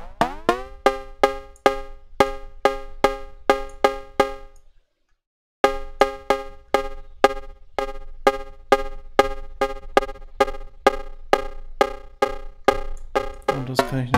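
Synthesized cowbell built with ring modulation in Bitwig, sounding as a steady stream of bright metallic clanks in a quick regular rhythm, close and alone, with a short silent gap midway and a brief noisy burst at the end.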